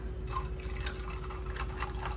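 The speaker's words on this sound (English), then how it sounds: "I'm gonna fill up the rest of it pretty much with SQUIRT" SQUIRT grapefruit soda pouring into a glass for a cantarito cocktail, a soft, steady liquid trickle with faint fizz and small splashes, close and quiet, lasting about two seconds with no talk.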